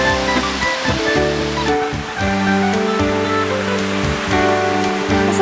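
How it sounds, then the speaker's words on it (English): A waterfall at La Grotte in Percé, Quebec, roars steadily and loudly, a dense continuous rush of falling water close by with no voices. "In Perce, there's a short hike to the beautiful waterfall at La Grotte."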